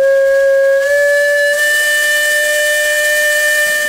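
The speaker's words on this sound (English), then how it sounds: "Attached to the Case engine is a whistle that was once used on the old swing bridge" A steam whistle once used on the old railroad swing bridge, now mounted on a Case steam engine, sounds one loud, sustained, steady chord tone with strong harmonics that holds for the full length, alone and close.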